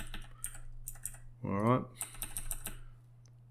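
Computer keyboard arrow keys tapped in a series of light, quick clicks spread through the clip, with a short spoken phrase in the middle, heard close against a steady low electrical hum.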